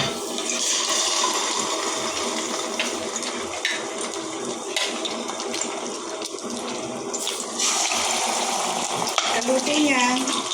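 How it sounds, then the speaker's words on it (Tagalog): Steady, dense sizzling and crackling of betilya fish frying in hot oil, continuous and fairly loud throughout, with faint clinks and a brief voice near the end. "prito muna natin yung betilya"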